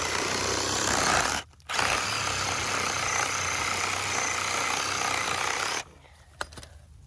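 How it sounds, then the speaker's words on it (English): Sawzall reciprocating saw cutting through bamboo, a loud continuous buzzing with one short pause near the start, before the cutting stops and fades out at the end. "I'm gonna get a Sawzall, hold up."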